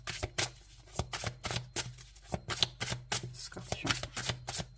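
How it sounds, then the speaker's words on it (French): Tarot cards are shuffled by hand in a steady run of crisp riffles and soft slaps, quiet and close, with no talking. "on va aller mettre une carte dessus"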